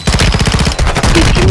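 Rapid machine gun fire from the video game Call of Duty: Warzone, a loud, dense stream of overlapping shots filling the whole moment with barely a break.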